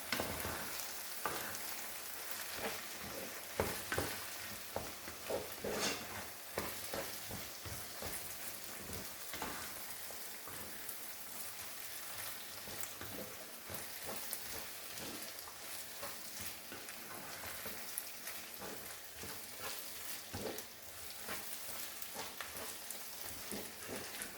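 Washed rice being stirred into tomato paste in a pot, heard as a soft, rain-like sizzle broken by scattered clicks and scrapes of the spoon. The sound is quiet, close and continuous, with no voices.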